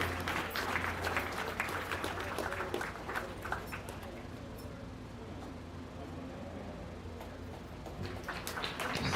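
A crowd at a county fair beef show applauds loudly at first, the clapping gradually thinning and fading before picking up slightly again at the end.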